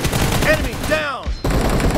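Gunfire in the mobile game PUBG Mobile, a quick burst of sharp shots with whooshing effects, loud and close, ending abruptly.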